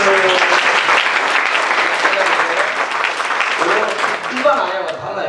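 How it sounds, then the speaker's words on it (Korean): An audience at a church pastors' seminar breaks into loud, sustained applause, many hands clapping together before it thins out near the end, with a voice starting to speak over the tail. "박수."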